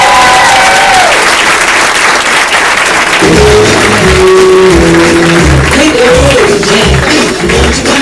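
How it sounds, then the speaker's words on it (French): Comedy club audience applauding and cheering as a comedian is introduced, a dense, loud wash of clapping for the first few seconds, then music with sustained tones takes over while the crowd noise continues underneath. "Mesdames et messieurs, faites un tonnerre d'applaudissements, s'il vous plaît"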